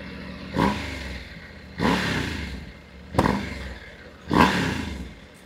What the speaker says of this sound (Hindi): whistling sound of this motorcycle is already there. Just listen to the sound.